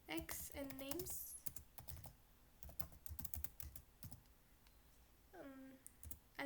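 Computer keyboard clattering with quick bursts of typing as Python loop code is entered, faint and close, interleaved with a speaking voice.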